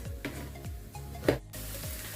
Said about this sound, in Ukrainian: В сковорідку ми додали шпинат, додаємо трішки вершкового масла.